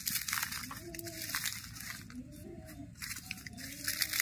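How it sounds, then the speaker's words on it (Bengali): Fried dried chillies being mashed by hand with salt, soft irregular crunching and squishing up close, with faint background noise. "লবণের সঙ্গে ভাজা লঙ্কাটা এবার ভালো করে দলে নেব"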